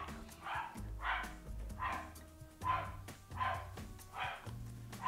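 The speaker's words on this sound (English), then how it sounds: "In the background again, the dog." A dog barks repeatedly in the background indoors, about six evenly spaced woofs over five seconds, moderately loud and somewhat distant.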